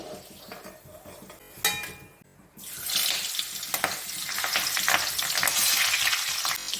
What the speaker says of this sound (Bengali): পাঁপড়ের মতন ভেজে নিচ্ছি